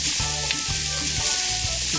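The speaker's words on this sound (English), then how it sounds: "Hear that sizzle?" Canned fish sizzles and fries steadily in a non-stick pan over medium heat, a close, continuous crackle with soft stirring knocks underneath and no talking.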